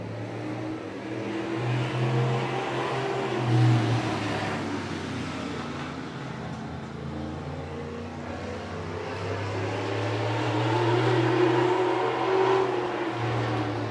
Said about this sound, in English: Green flag with the thunderous modifieds.